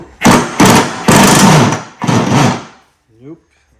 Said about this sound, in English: Let's just try an impact gun here.